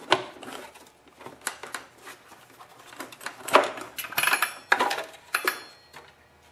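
Plastic cover being pried off a leaf blower, heard as a close series of light clicks, rattles and snaps of hard plastic with small scraping handling noises.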